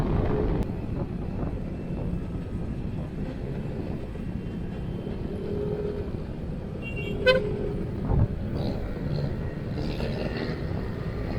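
Early-morning traffic on Commonwealth Avenue in Quezon City, a steady broad road rumble with a couple of short car horn toots standing out near the middle, heard from a vehicle in the flow.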